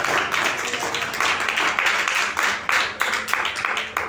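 A church congregation applauding during a worship service, a dense, steady wash of many hands clapping together at full volume for several seconds, with no voices above it.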